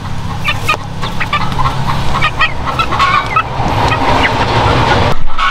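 Rhode Island Red chickens settling into a new grower house cluck and chatter continuously at close range, many birds calling over one another.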